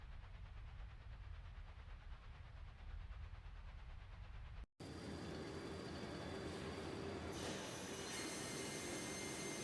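A train pulls away in the Secret Files: Tunguska adventure game, a steady low rumble of rolling wheels and engine that cuts out briefly, then returns louder with a high squealing tone and a rising hiss.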